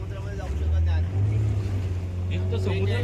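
A boat motoring out on the sea at Devbag beach, where the Karli river meets the Arabian Sea, its engine a steady loud low drone with wind and water rushing around it throughout.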